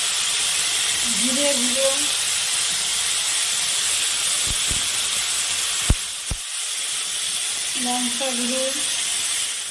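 Ground spices sizzling in hot oil in a pan for a thin catla fish curry with potato and drumstick, a steady bright hiss throughout with a voice speaking over it.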